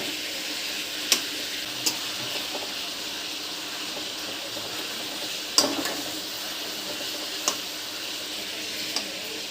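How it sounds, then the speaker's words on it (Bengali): Chicken pieces frying in a pan for a roast, giving a faint, steady sizzle with occasional sharp ticks and clinks of a utensil against the pan, no voices. "এগুলোকে আগে ভাজি করে নেব।"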